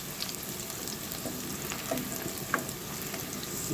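Garlic fries in a pan in a short burst of even, close sizzling crackle, with a couple of light utensil clicks and no speech.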